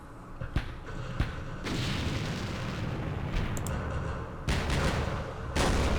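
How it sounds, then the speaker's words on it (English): 120mm mortar rounds in the wargame Campaign Series Middle East go off as a few sharp thumps and booms over a steady rumbling background, with a louder blast near the end. "These are 120mm mortars."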